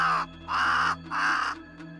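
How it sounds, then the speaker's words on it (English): Crows roosting on dead trees give three loud, harsh caws in close succession followed by a fainter one; any wingbeats are lost under the calls. "the crows roosting on the dead trees behind the Mommet awoke with a cacophonous cawing and a thunderous beating of their wings"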